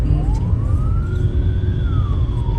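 A loud ambulance siren on a road rises and falls in a single long wail close by, riding over a dense low rumble of engine and traffic noise.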